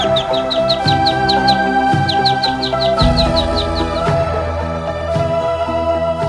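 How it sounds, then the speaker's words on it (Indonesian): Many kinds of birds chirp and call at a lake, with repeated high tweets in a steady rhythm over a dense, continuous background of other sounds. "segala jenis burung datang ke danau itu."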